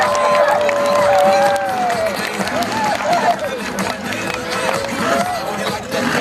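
A crowd at a monster truck show in Brisbane cheers and roars in a sustained wash of noise as a loud announcer talks over it.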